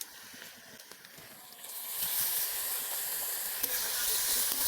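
Ground green chili, ginger and garlic paste fries in hot oil with cooked onions, giving a steady hiss that jumps to a louder, fuller sizzle partway through and holds there with no voices.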